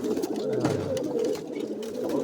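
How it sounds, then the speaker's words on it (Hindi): Pigeons cooing close by in a pigeon-keeping setting, soft throaty rolling coos repeating in a low steady murmur, with faint background noise and no talk. "चेक करो कबूतर की आवाज़"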